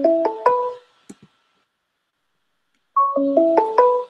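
Phone ringtone playing a rising melodic tune in short bursts, sounding loud and close, going quiet for a couple of seconds, then starting again.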